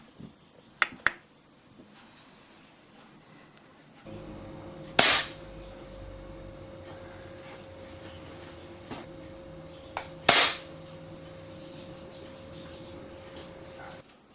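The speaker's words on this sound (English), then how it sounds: "1 shot with the hobby, 1 shot with the Bisley" Two loud, sharp pellet shots from an air rifle, fired one at a time across a Chrony F1 chronograph about five seconds apart, each followed by a brief ringing tail over a steady low electronic hum, with a couple of faint clicks beforehand.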